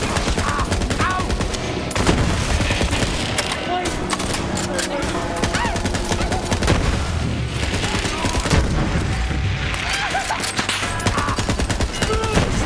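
Dense, loud gunfire from Borderlands 3, with continuous automatic bursts and heavy booms packed tightly together, and voices speaking over the relentless shooting.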